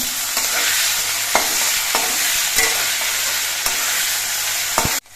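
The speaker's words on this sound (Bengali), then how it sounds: "আদা বাটা দিয়ে একটু নেড়ে তেড়ে মিশিয়ে নিয়ে নিতে হবে" Potatoes frying with ginger paste in a pan give a steady, close sizzle, broken by several sharp scraping clacks as a spatula stirs them, with no talking.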